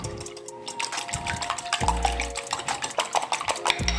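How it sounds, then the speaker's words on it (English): Eggs whisked in a bowl with a metal whisk, a quick rhythmic series of clinking taps and wet sloshing strokes, close and steady with no talking. "I'm gonna go ahead, scramble these eggs."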